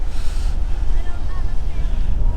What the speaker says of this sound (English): we're getting sandblasted. It's pretty windy.